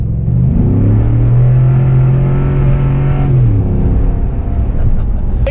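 An old Ford Raptor pickup's engine accelerates hard from inside the cab, a loud continuous roar rising in pitch then easing off around the third second before settling into a steady drone.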